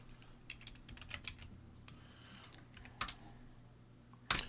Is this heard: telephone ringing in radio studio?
no